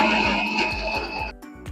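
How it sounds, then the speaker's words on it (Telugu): A mixer grinder pulses coarsely through boiled tomato, coriander and mint for chutney, a loud whirring grind that stops abruptly near the end and leaves a quiet pause. "మరీ మెత్తగా కాకుండా కొంచెం కచ్చా పచ్చగా పట్టుకోవాలి మిక్సీకి"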